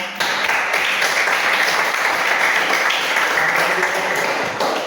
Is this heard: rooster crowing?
no